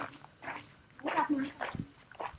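A dog whimpers and whines close by in short, uneven bursts over a couple of seconds, with faint noise in the room.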